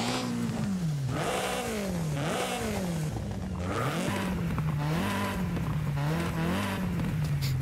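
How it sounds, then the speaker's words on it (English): A car engine revs repeatedly in Forza Horizon 5, pitch climbing and dropping in a steady rhythm of throttle blips, loud and continuous with no talking. "you can rev to hear the sounds of whatever modification you're installing"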